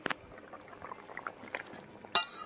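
Curry broth for a Bengali rui fish dish bubbling in an uncovered pot, soft close popping and gurgling bubbles with scattered faint clinks and one sharp metallic clink near the end.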